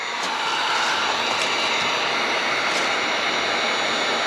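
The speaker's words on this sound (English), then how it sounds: "you don't want to keep this heat gun on there too long, because it'll actually kind of burn the surface" A heat gun blows steadily at close range while softening and lifting vinyl decals from an RV or motorhome exterior, a continuous loud broadband whoosh with no pauses or voices.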